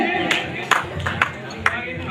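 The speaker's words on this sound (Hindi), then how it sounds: "जरा जोरदार तालियों के साथ में।" A few scattered claps ring out from a wedding ceremony audience in India, with separate sharp hand strikes at irregular intervals over a murmuring room tone rather than full, sustained applause.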